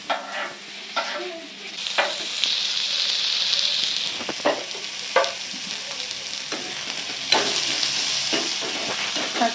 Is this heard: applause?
no